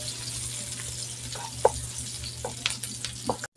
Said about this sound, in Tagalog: Ngayon, brown na ang ating garlic at ilagay natin ating onions.